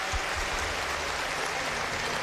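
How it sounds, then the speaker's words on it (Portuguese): Audience applause at a women's artistic gymnastics World Cup in Osijek, a soft, steady patter of clapping from a distant crowd lasting about two seconds, with no voices over it. "aplausos."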